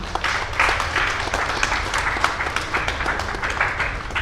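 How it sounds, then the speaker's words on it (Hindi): Loud, dense applause from a large crowd at a religious discourse gathering honouring a saint, rapid overlapping hand claps with a steady rhythm, close and sustained throughout with no voices over it. "एक जोरदार ताली।"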